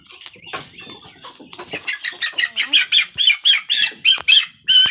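Broiler chickens on a small farm cluck and squawk up close, starting as scattered calls and building into a loud, rapid run of rhythmic squawks.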